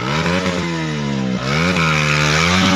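A motorcycle revving hard during a stunt, its engine climbing and dipping in pitch through quick throttle blips, loud and close, with no voices.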